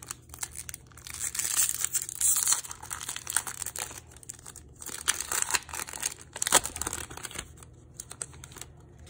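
Crinkly foil wrapper of a 2023 Panini Prizm football draft picks card pack being torn open by hand, with close, steady rustling and crackling and a few sharper tearing bursts.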